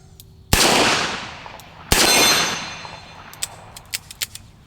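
Two loud, close Smith & Wesson Model 19 K-frame magnum revolver shots fired about a second and a half apart, each leaving a long ringing decay, followed by a few light metallic clicks and clatters.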